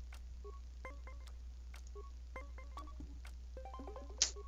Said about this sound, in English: I hear the phone ring in the background.